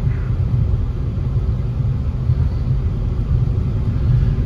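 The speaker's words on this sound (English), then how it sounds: "Motor runs great." A 2007 Mercedes-Benz C230 with a 2.5 V6 engine running while driving, a steady low rumble with road and cabin noise, no revving.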